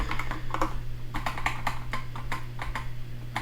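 Steady computer keyboard typing with irregular clicking keystrokes at close range, alone over a low electrical hum while coding.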